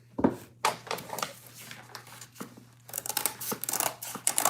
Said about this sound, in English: Guess we do gotta cut it with scissors